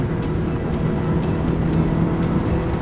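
A Ducati Hypermotard 821 motorcycle engine drones steadily and loudly at high revs while riding in a high gear, a continuous close roar with no voices.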